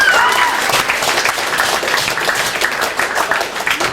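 An audience applauds at an Afro-Cuban percussion clinic at Milton Academy, with dense, loud, continuous clapping from a crowd lasting throughout.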